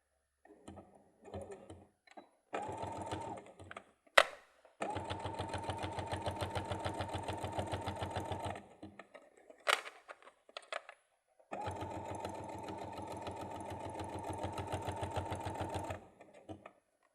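A sewing machine stitches a bag in two long steady runs of rapid mechanical chatter, with short pauses, clicks and handling noises between them, close by.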